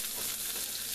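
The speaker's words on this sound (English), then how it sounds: "now you're starting to hear the crackling crispy sound" Close, steady sizzling and crackling of peppers and onions frying in a hot pan, a dense hiss with no talking.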